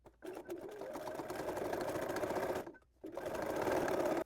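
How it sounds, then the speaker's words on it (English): A sewing machine top-stitches binding through quilted fabric on a tote bag, humming in a long steady run, pausing briefly, then resuming close and continuous. "Now I'm going to top stitch on the binding along this seam about 1/8 of an inch from the seam"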